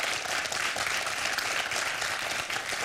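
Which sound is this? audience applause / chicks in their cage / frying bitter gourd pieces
audience applause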